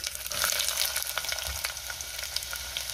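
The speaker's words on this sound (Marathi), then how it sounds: "कांदा थोडा ट्रान्सपरंट होईपर्यंत आपल्याला परतून घ्यायचा आहे" Chopped onion sautéing in hot oil with cloves, peppercorns, cinnamon and bay leaf for Maharashtrian chicken alani soup, giving a steady close sizzle with occasional stirring scrapes and no talk.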